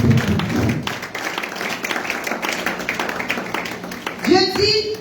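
A church congregation claps and applauds, a dense patter of many hands at moderate distance, with a voice speaking over it.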